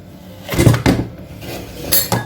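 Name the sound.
metal pot with strainer being handled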